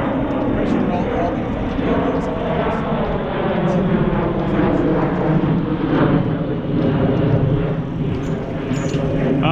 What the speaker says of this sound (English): we didn't get the audio because of the jet